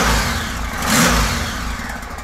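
Honda Valkyrie Interstate motorcycle engine, long unused and with an exhaust leak, revving up once near the middle of a steady, close running rumble, with no talking.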